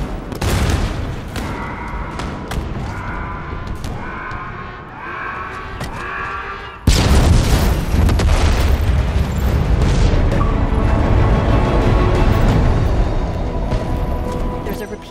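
A generator is destroyed in the Halo Infinite game, with sudden loud explosions and booming rumble after a stretch of rhythmic mechanical pulsing, followed by sustained crackling blasts.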